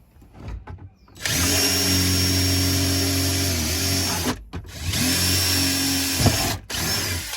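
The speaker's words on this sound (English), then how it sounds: "I'm gonna take a drill and I'm gonna just drill two little pilot holes." A power drill whirs loudly in two sustained bursts separated by a brief pause, drilling two small pilot holes in a car, close and alone with no talking.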